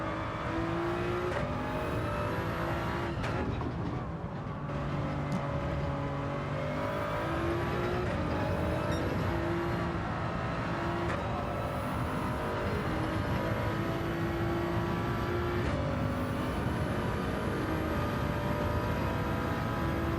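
Toyota Supra race car in a racing video game, its engine droning loudly and steadily throughout with shifting revs and gear changes, no talking.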